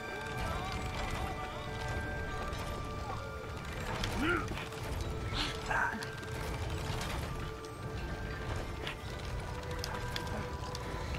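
Steady clip-clopping hoofsteps from a ridden sheep in It Takes Two, moderately loud over a constant bed of mechanical game ambience with ticking gear-like sounds.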